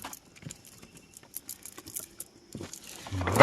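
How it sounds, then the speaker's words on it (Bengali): Shrimp are shaken out of a fishing net on a Sundarban river, with quick irregular pattering and soft crackling thumps close by, growing louder and heavier toward the end. "জাল ঝেড়ে দাও, পরে বেছে নেবো।"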